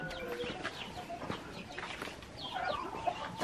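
A chicken clucks outdoors among farmyard noise, with small fowl chirps and scattered bird calls at close to moderate distance.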